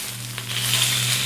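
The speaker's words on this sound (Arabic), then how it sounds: "حننزل شحم اللية، حيعطي نكهة جدا طيبة، خليها تذوب" Rendered lamb tail fat sizzles steadily as it melts in a cooking pot, a close, continuous crackling hiss with no talking.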